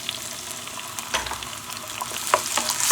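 Diced tomatoes hit a hot frying pan and sizzle steadily, with a few louder bursts as they are tossed, close and alone with no talking.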